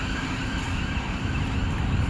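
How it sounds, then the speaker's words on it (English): Steady traffic rumble fills the air near Piccadilly, London, with a faint siren wailing somewhere far off beneath it. "You can hear the sirens in Piccadilly."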